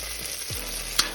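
Serrano peppers sizzle steadily in a hot pan while being stirred, a constant close frying crackle with a scrape and a brief clink from the utensil.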